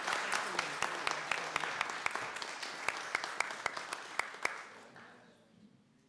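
Applause for honorees at a city council meeting, modest room clapping with a few sharp, distinct claps standing out, gradually fading away over the last second or two.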